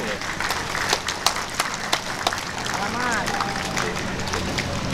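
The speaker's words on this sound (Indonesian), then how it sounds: "Boleh beri tepuk tangan yang meriah Bapak Ibu." Scattered applause rises at an outdoor regional autonomy day ceremony in a pendopo courtyard, sharp individual claps spread irregularly at a moderate distance, with a voice speaking over a public address system and crowd murmur underneath.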